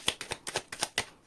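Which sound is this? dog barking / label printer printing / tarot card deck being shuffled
tarot card deck being shuffled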